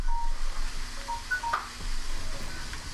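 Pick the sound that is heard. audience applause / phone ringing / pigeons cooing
phone ringing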